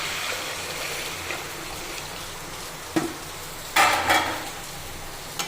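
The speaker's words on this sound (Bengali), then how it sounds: "গরম জল দিয়ে দিলাম" Hot water poured into a pot of rice and lentils frying for khichuri, a steady sizzling hiss with a sharp burst around the pour near the end, close and alone.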